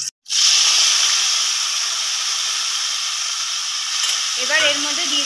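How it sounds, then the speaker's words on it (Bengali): Whole dried chillies, bay leaves, cinnamon, cardamom and cloves hiss and sizzle steadily in hot oil for a mutton curry, a close, loud continuous frying crackle after a brief silent start, with a faint clink near the end. "এখানে তেলের মধ্যে দেওয়া হলো শুকনো লঙ্কা, তেজপাতা, দারচিনি, এলাচ, লবঙ্গ সব দিয়ে দেওয়া হলো।"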